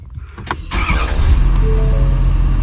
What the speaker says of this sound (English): truck fires up